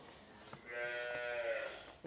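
A single long, low moo from a native Bangladeshi cow, rising and holding for over a second, fairly close, with no talking around it.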